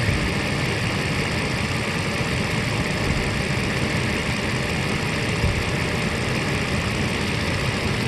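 A 1997 Mercedes S600 coupe's V12 idles steadily after a cold start, a continuous, even engine drone with a deep low rumble, heard close and alone with no talking.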